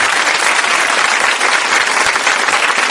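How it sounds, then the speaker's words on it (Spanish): Sustained applause for the singer Said Palacios on a Garifuna music and talk show, a dense, fairly loud and even patter of clapping throughout with no voices over it. "Un aplauso para ese talento, Said"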